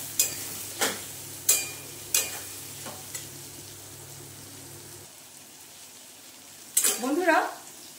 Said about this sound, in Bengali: এই দিয়ে এবারে ভালো মতন কষে নেব।